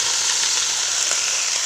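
Salt-soaked taro stems sizzle and fry in a hot pan, a close, continuous crackling hiss with no voices.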